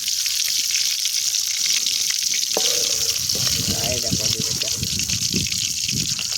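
Silver carp pieces fry in hot oil for a Bengali fish curry, a steady bright sizzle running throughout, with some clattering and a person talking partway through.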